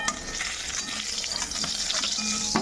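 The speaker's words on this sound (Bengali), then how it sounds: "এদিকে করছি বেগুন ভাজা" Eggplant (brinjal) slices frying in oil in a pan in a home kitchen, a soft steady sizzle with faint scraping and light clinks, quiet and close, no voices.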